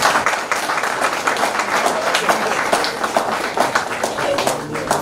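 Audience applause at a first birthday party in Washington, many hands clapping in a dense, steady, loud burst that fills the room for several seconds, with a few voices faintly underneath.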